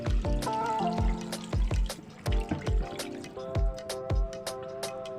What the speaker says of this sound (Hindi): अब मैं इसमें पानी शामिल कर देती हूँ।